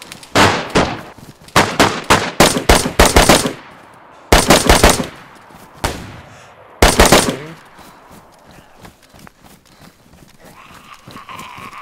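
Loud automatic gunfire in the video game DayZ comes in several rapid bursts of close shots separated by short pauses, then fades into quieter background ambience.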